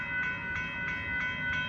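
The northbound Amtrak Texas Eagle train 22 approaches the Dittmar Road crossing in Austin, Texas, with a faint, distant sustained horn tone over a low rumble.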